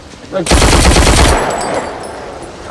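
An automatic rifle fires in a film scene, a loud close burst of rapid gunfire lasting about a second, then a fading echo as the noise dies away.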